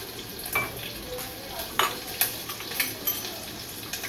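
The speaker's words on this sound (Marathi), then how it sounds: "ठेचलेलं अद्रक आणि लसूण टाकलं आहे" Crushed ginger and garlic fry in a pan with a steady close sizzle, broken by a few sharp scrapes and taps of a spoon stirring against the metal.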